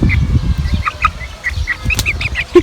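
A rooster in a village chicken coop flaps its wings in brisk bursts close by, mixed with scattered high chirps and peeps from the birds.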